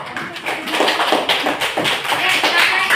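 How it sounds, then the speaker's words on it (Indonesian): Applause for a student named Zahra during a classroom demonstration of religious-ethics lessons, a steady patter of hand claps lasting throughout at close range. "Silakan beri tepuk tangan Zahra."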